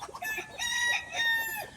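Pure village gavran chickens on a poultry farm in Dombivli, Thane, giving a busy overlapping chorus of clucks and short calls, close and fairly loud, with no talking.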